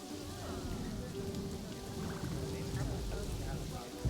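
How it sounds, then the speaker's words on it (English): Heavy pouring rain in the zoo-building video game Planet Zoo makes a steady, dense hiss with low rumbling underneath, and faint voices are mixed in. "And it is pouring rain and protesters."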